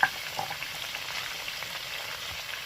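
Shrimp and bottle gourd greens for a poppy-seed dish fry in a pan with a steady, close, crackling sizzle. A brief clink sounds at the start, and there is no talk.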